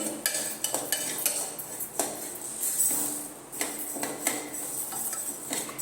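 Rice dry-roasting in a pan for jaggery pongal is stirred with a metal spoon, producing repeated sharp clinks and scrapes against the pan at an uneven pace, close and clear.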